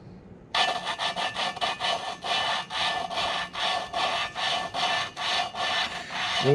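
Gritty rasping of lapping compound as an engine valve is turned back and forth against its seat with a suction cup tool, in steady repeated strokes with brief pauses, close and fairly loud.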